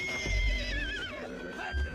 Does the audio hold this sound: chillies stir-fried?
no